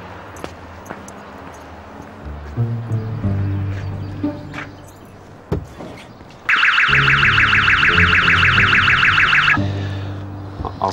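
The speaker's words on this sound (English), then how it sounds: "Is that your car? You've had some complaints about the alarm." Car alarm blasting a loud, harsh electronic warble for about three seconds, cutting in abruptly and stopping just as suddenly, over a quieter street background with a low engine hum and scattered bumps.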